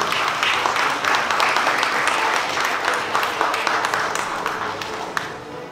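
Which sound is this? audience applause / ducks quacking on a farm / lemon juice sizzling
audience applause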